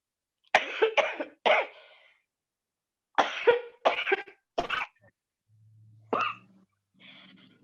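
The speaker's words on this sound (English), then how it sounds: "she's coughing" A woman coughs in a few short bursts, then again after a pause, close and fairly loud, followed by a brief throat sound and faint hum.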